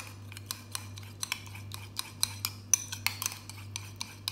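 A spoon scrapes and clinks repeatedly against a bowl while stirring a mustard and ketchup mixture, light rapid taps close by over a low steady hum.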